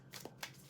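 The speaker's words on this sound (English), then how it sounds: "Let me give these cards a good shuffle for you" Tarot cards riffled in a quick shuffle, two crisp bursts of papery flutter close by, with a faint murmur of background noise and no talking.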